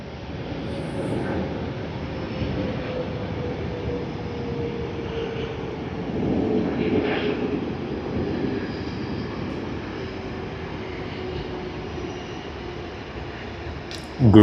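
A Garuda Indonesia airliner at Sydney Airport roars steadily as a broad, sustained jet rumble that swells in the middle and holds throughout, heard at a moderate distance with no speech over it.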